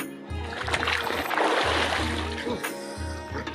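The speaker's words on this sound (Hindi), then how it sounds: "चलो एक बार डुबकी लगाते हैं।" Someone dips into river water, giving a few close, irregular splashes and sloshes, with a brief voice heard among them.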